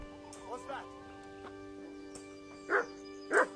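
Dog in the video game Kingdom Come Deliverance gives two short barks near the end, moderately loud against a quiet droning background with soft faint sounds earlier.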